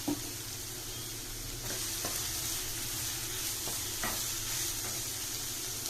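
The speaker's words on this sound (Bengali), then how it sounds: "ভেজিটেবলসটাকে আমি আগে দিয়ে দিলাম, নিয়ে হালকা হাতে এটাকে অল্প একটু সতে করে নেবো।" Carrots and beans sauté in a hot pan, giving a steady close sizzle with occasional soft stirring scrapes and no talking.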